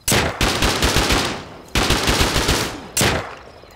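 Rapid automatic gunfire in the survival game Rust: three loud, close bursts of fast repeated shots, separated by brief gaps, each burst fading slightly toward its end, with no voices.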